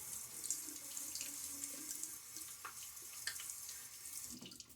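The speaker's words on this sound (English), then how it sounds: "I want to get a little water on my face." A bathroom tap runs steadily into a sink while someone wets their face during a shave. The water is faint and continuous, with small splashes and shifts as hands move through the stream.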